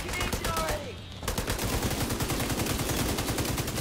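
Rapid hip-fired automatic gunfire in The Division 2, a near, loud and steady rattle of shots that runs almost without a break after a brief opening pause.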